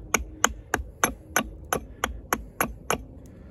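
A Kobalt 14-inch camp axe chops into wood, landing ten sharp, evenly spaced strikes in a steady rhythm, close and clear with no talking.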